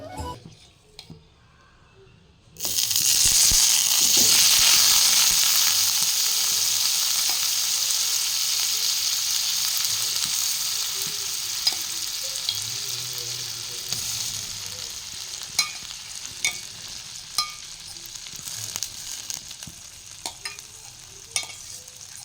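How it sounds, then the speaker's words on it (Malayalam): Butter melting and bubbling in a pan while being cooked down into homemade ghee, a loud steady frying hiss that starts suddenly and settles into continuous sizzling with scattered small pops and crackles, close and alone. "ഇനി നമുക്ക് ഈ വെണ്ണ ഉരുക്കിയെടുക്കണത് കാണിക്കാം."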